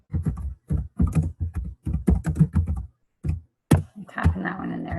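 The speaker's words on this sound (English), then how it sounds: "I'm typing that one in there, too." Bursts of keystrokes on a computer keyboard, clicking in quick irregular clusters with short pauses, close and fairly loud, ending with a busier stretch of taps and clatter.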